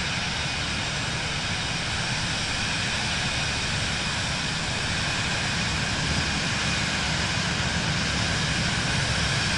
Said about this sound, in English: Ah, there's another Vision jet.